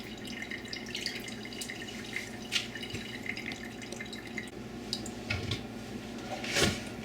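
Water dripping steadily from freshly rinsed sprouts left to drain after jar growing, a soft patter of drops with a few louder splashes, close by with no voices.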